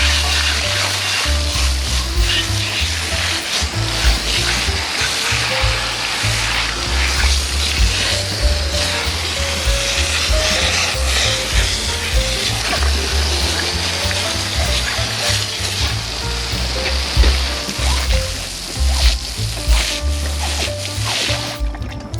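Steady, loud water spray rinses a dirty engine during a teardown, near and continuous with a constant hiss, and brief low voices come through under the rush.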